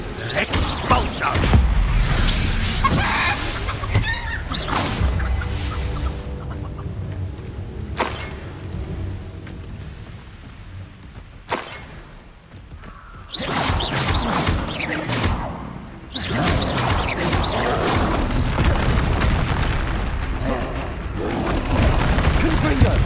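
Expulso explosion spells burst repeatedly in the Hogwarts Legacy video game, loud booming blasts with whooshes and crashing debris, separated by quieter stretches, with a voice speaking over parts of it.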